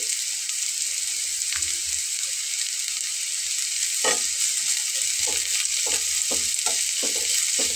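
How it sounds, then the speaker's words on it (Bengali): Chopped green chilies fry in oil, sizzling steadily up close, with scattered spoon clinks and stirring scrapes becoming more frequent toward the end. "তো এর ভেতরে আমি এখন কাঁচামরিচ কুচি করে দেওয়াটা দিয়ে নিচ্ছি।"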